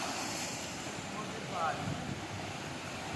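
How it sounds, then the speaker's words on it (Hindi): Water pours out through an open gate of the Kosi Barrage in Nepal, a steady broad rushing roar heard from a distance, with wind buffeting the microphone throughout. "और देखिए पानी निकल रहा है,"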